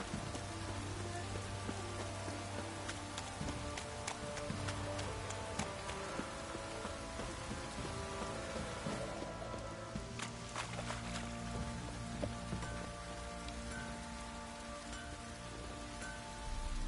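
Rain in the video game Witcher 3 on the isles of Skellige: a steady, soft patter of drops on surfaces, faint and continuous, with quiet tonal game ambience underneath.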